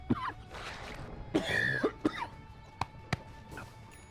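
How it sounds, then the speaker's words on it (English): A Dota 2 esports commentator coughs several times at ESL One Birmingham 2019, a few harsh close coughs and throat clearings set apart by short pauses, followed by sharp clicks. "I was just having some coughs off mic."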